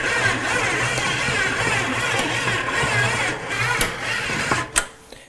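A KitchenAid Commercial 8 quart stand mixer motor hums steadily while kneading basic sandwich bread dough, a constant mechanical whir with rhythmic churning, ending in a few clunks as it stops.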